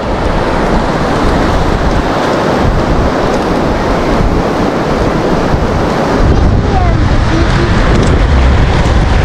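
Waves washing ashore at a seaside make a steady broadband roar, with wind buffeting the microphone throughout and growing slightly louder near the end; no one speaks.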